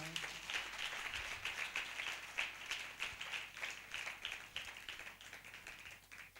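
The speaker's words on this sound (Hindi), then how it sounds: "एक बार पवित्र बाइबल के लिए जोर से ताली बजाएं।" A congregation at a Hindi-language church sermon breaks into steady clapping, a dense run of quick hand claps heard from moderately near without pause.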